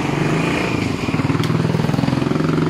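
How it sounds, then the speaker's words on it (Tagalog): A motorcycle engine with a stock head, stock pipe and a Jenrix cam runs close by, a steady pulsing idle with a rough, even chug that grows more rhythmic toward the end, loud with no voices. "Oh, ang galing na no yung motor."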